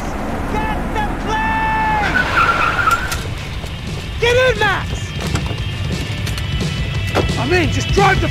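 A car drives hard with sharp tire skids and squeals, loud and close, alongside bursts of shouted speech and impacts.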